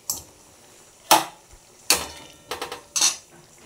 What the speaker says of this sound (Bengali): এরপর আমি ভাজা মাছগুলো এতে দিয়ে দিলাম।